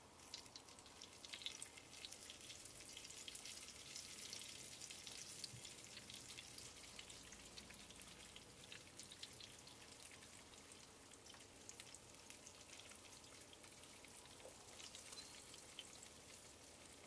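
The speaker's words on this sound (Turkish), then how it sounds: "pişilerimizi sıcak tavaya alalım" Pişi dough fries in a hot pan, giving a soft, steady crackling sizzle with scattered pops, quiet and uninterrupted.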